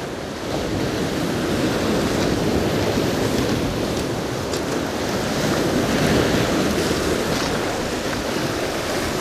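Ocean waves break and wash continuously along a shore during sea fishing, a loud, steady roar with gusty wind noise on the microphone.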